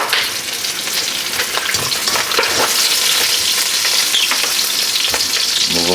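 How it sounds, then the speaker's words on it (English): Red Hot sausages frying in a pan with browned onions, a loud continuous sizzle and crackle with scattered pops and stirring close up. "our onions are starting to turn a little on the brown side, and now we go in with our Red Hots"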